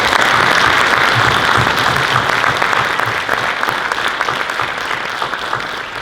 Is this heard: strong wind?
no